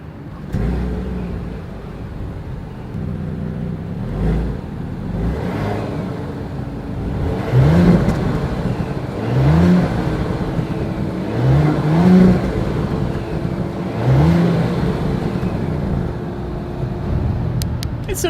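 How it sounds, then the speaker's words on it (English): An idling Audi Q8 SUV engine revs sharply four times in a row through its exhaust, each rise roaring briefly before settling back to a deep rumbling idle, heard up close. "As always, here is that exhaust clip."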